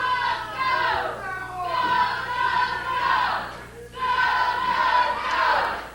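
Crowd noise at an Ohio Valley Wrestling professional wrestling show before a match, a steady roar of many voices with high-pitched shouts and yells rising and falling in two long swells.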